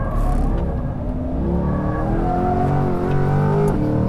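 Loud 2020 Corvette C8 Z51 engine revving on a race track, its pitch climbing steadily as it accelerates, close and continuous without talking.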